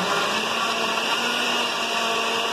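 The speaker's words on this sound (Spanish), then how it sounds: "Entonces lo llevamos aquí a la licuadora y listo. Lo molemos y lo vamos a reservar" Kitchen blender running steadily on tomatoes and water for a Veracruz-style fish fillet sauce, a loud continuous whirring motor hum with no pauses and no voices.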